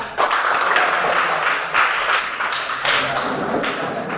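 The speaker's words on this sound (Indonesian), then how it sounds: "Oke, tepuk tangan." Students clapping together in a junior high school classroom, a burst of hand claps in loose rhythmic groups with some tapping and thuds, fairly close.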